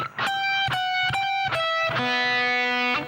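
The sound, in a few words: electric guitar solo phrase from a song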